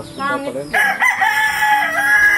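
A rooster crows loudly and close by, one long drawn-out cock-a-doodle-doo call.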